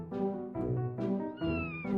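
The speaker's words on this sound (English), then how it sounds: "That cute little meow" A domestic cat meows repeatedly, four or five close, clear, drawn-out calls in quick succession with slight pitch rises, alone in a quiet room.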